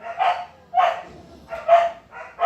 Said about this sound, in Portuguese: Cachorrada latindo